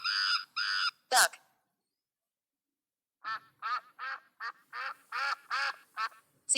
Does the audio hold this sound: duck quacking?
yes